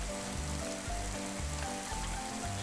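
Steady rain pattering on a surface, a dense continuous hiss with no voices, fairly close and even throughout.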